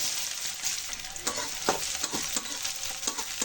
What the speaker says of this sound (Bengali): কড়াইয়ে তেল গরম করে, তেল গরম হয়ে গেছে, জিরা, শুকনো লঙ্কা, পেঁয়াজ